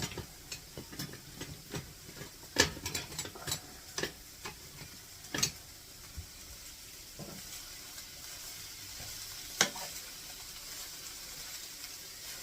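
Egg roll filling sizzles softly in a pan while being stirred, with a low steady hiss and scattered clicks and taps of a utensil against the pan.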